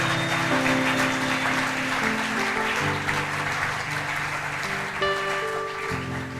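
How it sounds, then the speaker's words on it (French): A church congregation at a seminar applauds in steady, sustained clapping, with sustained musical tones sounding underneath throughout. "Est-ce que nous pouvons acclamer pour la gloire du Seigneur?"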